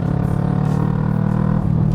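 A Kawasaki ER6n parallel-twin motorcycle fitted with a Yoshimura exhaust idles loud and close, a deep steady rumble with a faint rise in pitch near the end, no voices.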